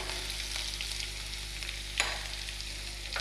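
Green chillies, ginger and onion stir-frying in a pan, an even hissing sizzle with a single sharp scrape of a spoon midway, close and moderately quiet.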